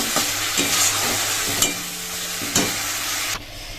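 Frying spice masala for a fish curry, a loud dense sizzle with a few sharp stirring knocks, the hiss easing slightly toward the end, no talking.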